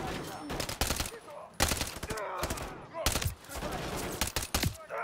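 The Striker gun fires in Call of Duty: Modern Warfare III in repeated bursts of loud gunshots, with brief pauses between volleys and a voice talking over the shooting.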